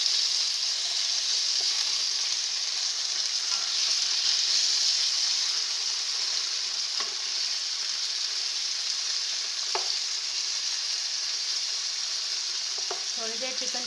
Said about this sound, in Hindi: जब हल्का सा ये गोल्डन ब्राउन हो तो इसके अंदर अब हम चिकन डाल देंगे।